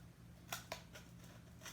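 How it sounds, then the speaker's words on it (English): Scissors snip through craft material for an indoor campfire project, giving two sharp, close cuts followed by a softer snip against a quiet room hum. "So then you need your scissors."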